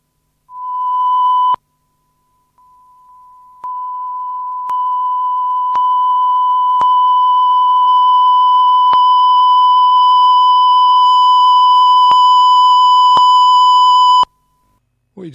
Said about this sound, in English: 1 kilohertz ramping up to plus 9 dB on the recording level meters